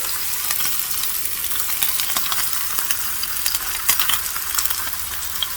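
A thin ribeye steak fries in a pan inside a winter camper van, giving a steady, fairly loud broadband sizzle with small crackles and pops throughout and no talking.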